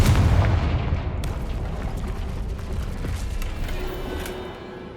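A Confringo fire-blast spell explodes in the video game Hogwarts Legacy with a loud, heavy boom at the start, followed by a rumbling, crackling tail of debris that slowly fades.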